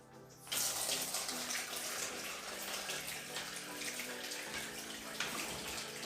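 Water from a hose on a thermostatic valve fills a 60 cm planted aquarium tank, a steady broadband rushing pour that starts abruptly and runs loud and continuous, with no talk.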